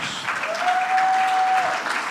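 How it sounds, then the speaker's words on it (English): An indoor crowd at a Rotary club 100th anniversary celebration claps briefly and fairly softly, with a steady patter of many hands and a faint tone running underneath. "How about we give Jeff Bohm a round of applause"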